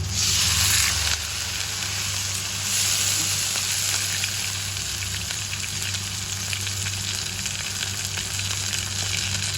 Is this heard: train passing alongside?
no